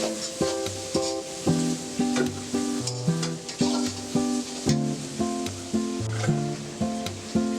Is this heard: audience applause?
no